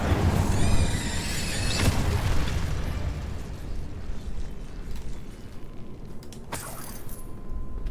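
The Incendio fire spell in Hogwarts Legacy bursts loudly against spiders, a crackling fiery whoosh followed by a sharp second pop later on, over dense game ambience.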